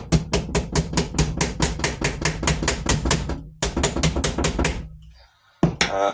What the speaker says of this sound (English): now I'm going to tap you with whatever rubber mallet I have